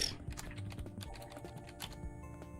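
Rapid, uneven keystrokes clatter on a computer keyboard during a Desktop Explorer game session, a dense run of close clicks with no talk over it.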